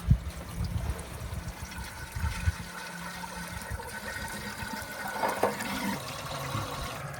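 Water pouring and gurgling into the radiator of a 1931 Ford Model A pickup during a leak test, an uneven close splashing and trickling flow with a few louder bumps and no speech.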